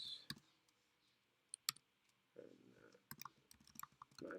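Keys tapped on a computer keyboard while entering a password, a few quiet scattered clicks and then a faster run of taps, with faint speech-like sounds between them.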